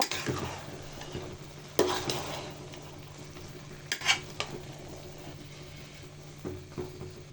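A spoon works chicken into rice for biryani in a quiet pot, with soft low sizzling underneath and a few sharp scrapes and knocks against the vessel, spaced irregularly; no talking.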